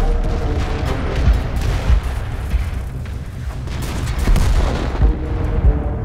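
Tank cannon shots and explosions pile up in a World of Tanks battle, a dense, loud, continuous barrage of booms and rumbling blasts with sharp cracks scattered through it and no pause.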